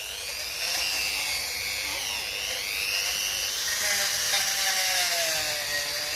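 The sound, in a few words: Dremel rotary tool cleaning aluminium tractor diesel pump part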